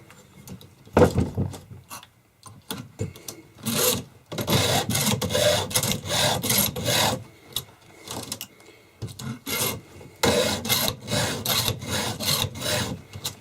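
A chainsaw chain tooth is sharpened with a hand file in a precision guide, giving a run of rhythmic rasping strokes, each a short gritty scrape, close up with brief pauses between passes and no talking.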